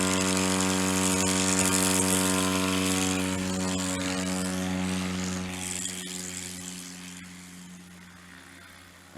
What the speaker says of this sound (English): That was a nice, solid takeoff.